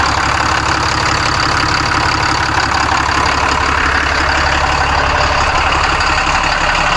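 A Ram 2500 with a 12-valve diesel and a performance tune settles into a steady, loud idle, its low clattering rumble running unbroken and close throughout.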